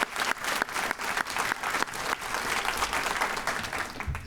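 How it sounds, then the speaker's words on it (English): Enthusiastic audience applause at an awards ceremony, a dense, sustained burst of many hands clapping with crisp individual claps standing out at first, filling the room without talk. "Let's give them a real round of applause."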